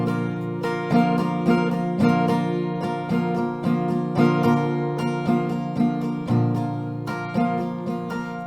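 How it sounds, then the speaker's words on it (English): Acoustic guitar strummed in a steady down-up rhythm, chords ringing clearly and evenly throughout, with no voices. "if we play a couple rounds of this strumming, it will be like this"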